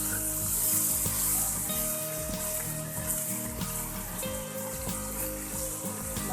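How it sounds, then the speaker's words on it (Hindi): Chili peppers fry in hot oil for a masala stuffed tinda dish, giving a steady, close, loud sizzle with occasional clinks and stirring scrapes and no talking. "हमारी मिर्च फ्राई हो रही है।"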